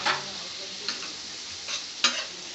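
Onions frying in Amul butter with pav bhaji masala on a griddle for masala pav, a soft steady sizzle with a few sharp scraping stir strokes, no talk.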